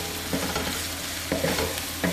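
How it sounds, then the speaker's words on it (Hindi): Chopped onion frying in a pan, a steady sizzle broken by a few brief scraping stirs of a utensil, close and moderately loud, with no talking. "जो एक अनियन हमने चॉप करके रखा था, इसको हल्का सा हम फ्राई करेंगे"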